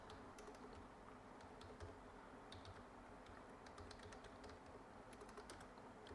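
C++ code is typed on a computer keyboard: quiet, irregular clusters of light keystroke clicks over a soft background hum.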